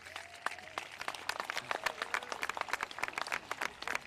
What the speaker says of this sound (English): So big round of applause for Peter.